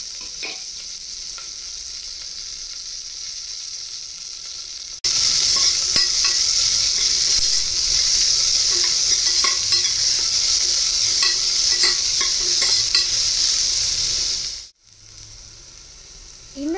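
Cumin and stone flower sizzle in hot oil in a pressure cooker, a steady bright hiss that jumps louder after a few seconds, with small pops throughout, then briefly cuts out near the end before resuming.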